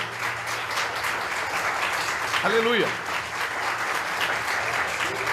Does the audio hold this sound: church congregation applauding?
yes